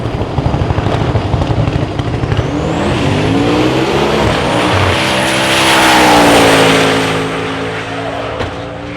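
A loud LS-engined Camaro drag car roars and rises in pitch as it accelerates hard down the drag strip at LS Fest 2019, then fades slightly as it moves away.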